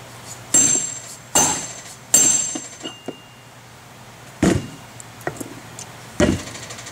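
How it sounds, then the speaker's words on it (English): A dead blow hammer strikes a Sanden compressor clutch pulley to seat it on the compressor nose, giving five dull, solid thuds at irregular intervals with small clinks between them, close and alone. "So got the pulley back up. Using a dead blow hammer."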